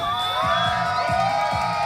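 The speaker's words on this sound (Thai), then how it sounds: "ขอเสียงกองเชียร์สีน้ำเงินหน่อยครับ" A blue-team squad of children cheers and shouts together in a loud, rhythmic chant during a Children's Day tug-of-war contest.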